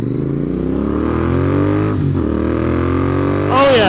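Loud, close Royal Enfield Interceptor 650 motorcycle engine with a throaty growl, revving up and down, pitch dipping midway and then climbing sharply at the end.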